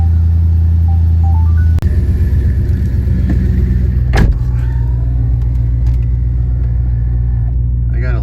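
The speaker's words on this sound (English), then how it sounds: "So this should be a pretty good cold start." A Mercedes CLS55 AMG fires up on a cold start with a sharp cranking catch, then settles into a loud, deep idle rumble close by, with a faint chime and a brief voice over the engine.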